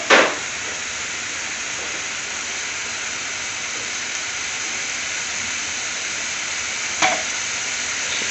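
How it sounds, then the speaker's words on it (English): Chana masala simmers and sizzles in a restaurant pan, a steady broadband hiss running the whole time with a sharper clatter at the start and another brief knock near the end, no talking. "And simmer for about 2 to 3 minutes."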